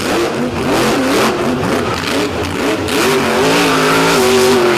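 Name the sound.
monster truck engine revving at high RPM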